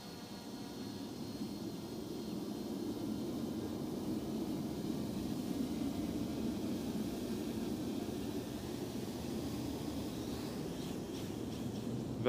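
A small MJX Bugs B2W quadcopter drones steadily as it flies in to land, a continuous broadband rotor whir holding an even level throughout, with no voices.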